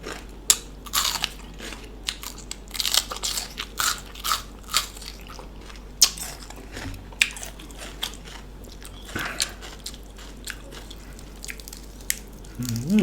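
Crispy fried pork belly is crunched in repeated bites, sharp crackling crunches in an irregular chewing rhythm, close and clear against a quiet background, with small wet sounds between bites.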